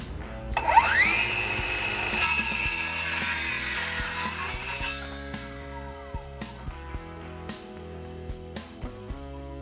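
A power saw spins up and cuts through a scrap piece of 2x4 wood for a few seconds, then winds down. Light knocks and clicks follow as the saw coasts to a stop.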